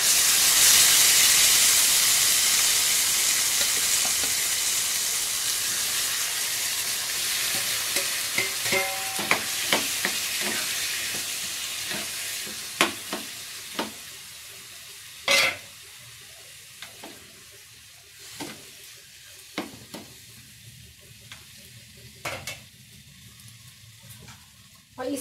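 Tomatoes hit a hot pan with a loud sizzle and steady hiss, then the frying settles into a softer background under clear stirring scrapes and clacks of a spoon against the pan. Food is being prepared for a guest dinner.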